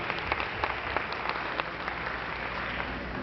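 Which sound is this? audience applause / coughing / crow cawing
audience applause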